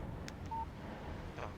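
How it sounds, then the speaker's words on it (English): A short electronic tone alert from a phone receiving a text message in the video game Alan Wake, a single brief beep over a low background hum, with a faint softer chime after it. "Text message from Barry."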